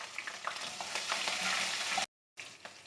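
Cumin, garlic and green chilies sizzling in oil in a karahi, a steady loud crackle with a few stirring clicks, a brief silent gap, then the sizzle returns.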